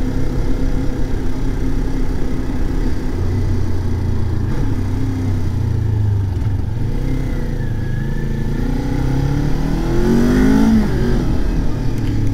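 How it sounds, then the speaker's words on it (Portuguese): A Kawasaki Ninja 400 twin-cylinder motorcycle engine rumbles steadily up close, its low throb rising in a couple of revs, the strongest swell near the end, with no talking. "Ronquinho gostoso, hein, dos dois cilindros."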